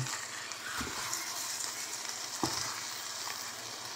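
Gnocchi and creamy sauce with pulled chicken get stirred in a single pan, giving a constant close sizzle broken by two soft knocks of the spoon, with no voices.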